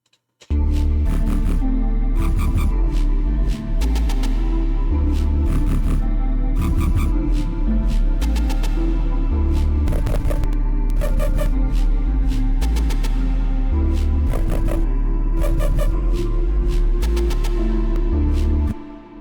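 Layered dungeonstep synths play together, heavy sustained bass underneath chopped, rhythmic chord stabs and bright leads, loud and dense, looping steadily for nearly twenty seconds with no voices.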